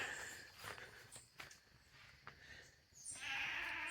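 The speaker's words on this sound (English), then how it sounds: "Oh, look at the goats." Goats on a property in Jamaica bleating faintly in a few short calls at a distance, with footsteps and light rustling nearby.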